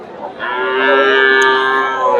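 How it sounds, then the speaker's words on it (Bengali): A Friesian heifer moos at a cattle market in Bogura: one long, loud, drawn-out bellow rising near the start and holding steady for about two seconds, close to the listener. "দুইটা মোটামুটি সুন্দর বকনা ফ্রিজিয়ান জাতের"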